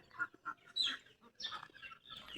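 Chickens clucking and Peking ducks quacking in short, scattered calls, fairly faint, with several birds calling over one another.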